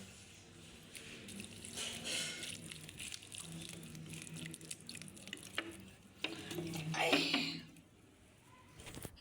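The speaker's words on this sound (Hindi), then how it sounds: "तो इसे पानी देते हैं।" Water is poured onto a potted saffron plant outdoors on a hot, sunny day, a brief splashing trickle that swells near the end, mostly under a woman's speech.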